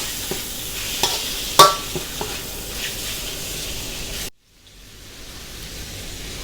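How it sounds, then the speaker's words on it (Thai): Shrimp and garlic stir-fry quickly in a street-food pan with a steady, hissing sizzle and a few sharp utensil clacks, then a sudden brief drop before a quieter sizzle carries on without voices. "แล้วเราก็จะใส่กุ้งลงไปเลยนะครับ จะผัดด้วยความรวดเร็วเพื่อมาให้กุ้งสุกมากนะครับผม"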